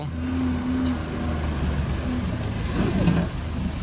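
A Lada Niva pulls away slowly in first low gear on a broken road, its engine a steady low drone with some rumbling and bumps rising toward the end.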